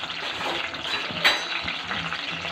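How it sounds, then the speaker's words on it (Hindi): Cumin seeds and mint leaves are tempered in hot oil for corn chaat, giving a steady, close hiss and crackle of sizzling with faint clinks from the pan underneath. "अब इसके अंदर मैं ज़ीरे का और पुदीने का तड़का दूँगी इसको"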